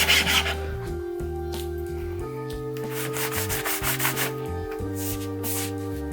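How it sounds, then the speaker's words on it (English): A fine hand file rasps across an epoxy fretboard inlay on a guitar in steady back-and-forth strokes, close and continuous, with a dry scratchy rhythm throughout and no voices. "So I definitely want to more or less abandon the coarse file on this side, switch to the fine file."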